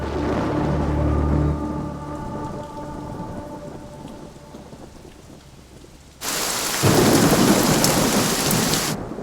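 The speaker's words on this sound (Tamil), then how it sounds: "என்ன புயலா?" A storm pours heavy rain with deep rumbling thunder, the downpour loud and steady, easing briefly before bursting into a harsh, dense hiss of hard rain.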